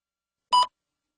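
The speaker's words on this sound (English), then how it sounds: "Please begin speaking after the beep." A single short electronic beep sounds once, clean and alone against silence, marking the moment to start speaking.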